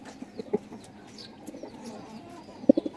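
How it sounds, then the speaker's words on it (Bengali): Pigeons on a rooftop garden give soft, low coos amid light background noise, with a few brief calls early on and a louder burst of cooing near the end, fairly close. "এই দিকটা দেখেন আমার কবুতর"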